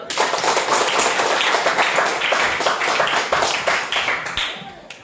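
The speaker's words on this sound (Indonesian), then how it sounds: "Beri aplaus untuk Husnul." A classroom audience claps for a student, a dense burst of applause that starts at once, holds steady, then fades away near the end.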